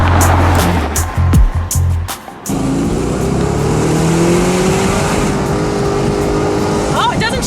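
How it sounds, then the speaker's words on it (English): A 2015 Chevy Camaro SS convertible engine roars loud and near, revving hard with shifts, then a sustained rising drone as it climbs toward the rev limiter. "It'll go up there and just bounce right off the rev limiter."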